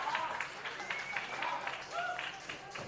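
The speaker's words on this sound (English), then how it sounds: "Round of applause" Steady crowd applause and cheering from a wrestling video game fills the background in a continuous wash, with a commentator talking over it.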